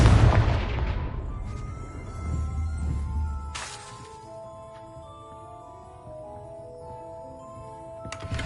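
A Confringo spell explodes in Hogwarts Legacy with a loud, deep blast at the start that rumbles and decays over several seconds, followed by a sharp crackle and lingering ringing tones.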